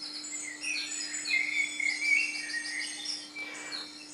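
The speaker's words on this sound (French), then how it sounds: "c'est vraiment le bruit des oiseaux qu'on entend dehors" Recorded birdsong plays from a children's garden-sounds book, bright chirps and repeated trilling phrases over a faint steady electronic hum, close and clear, with no talking.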